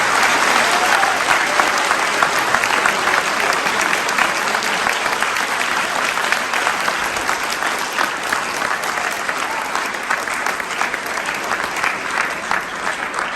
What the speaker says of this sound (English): let's give a big round of applause, not only for our veterans,